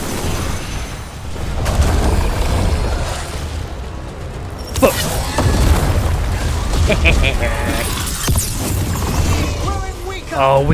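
A bomb explodes in a booming burst during a dragon fight in the video game Dragon Age: The Veilguard, set among continuous loud battle noise with further impacts and crackles after the blast.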